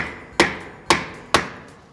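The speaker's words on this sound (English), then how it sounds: "trusty dusty hammer." Three sharp hammer blows on a wood block, evenly spaced about half a second apart, close and loud with brief ringing decay, while fitting window trim and drip flashing.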